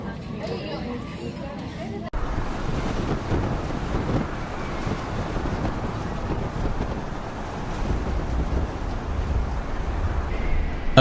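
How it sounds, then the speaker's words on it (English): A giant cargo ship loaded with timber rides out a storm, with loud, steady roaring wind and crashing waves. An abrupt shift early on gives way to a continuous, heavy wash of rough-sea noise. "A giant cargo ship transports timber during a storm."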